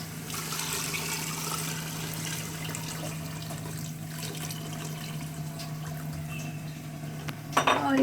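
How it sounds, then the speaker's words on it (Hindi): Water is poured into a cooking pot of browned black chickpeas for a shorba, a soft steady liquid wash with faint clinks and a brief louder clatter near the end. "अब इसमें पानी ऐड करेंगे।"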